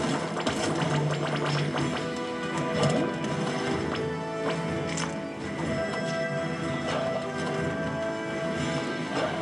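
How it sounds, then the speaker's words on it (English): Galloping horse hooves in SpongeBob: The Cosmic Shake video game, a steady clip-clop rhythm running throughout over dense game music and effects, with an occasional whinny. "We cannot backtrack along the horse course."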